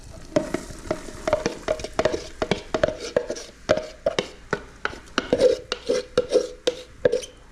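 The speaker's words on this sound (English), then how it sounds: "So our onions are simmering away in the pot there." Onions fry in a pot while a spoon stirs them, producing rapid, close scraping and clanking strokes in an irregular rhythm over a soft sizzle.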